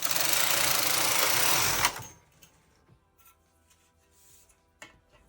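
A Brother KH 260 knitting machine carriage knits right to left, a loud mechanical whirring rasp lasting about two seconds, then stops, leaving faint clicks and handling sounds.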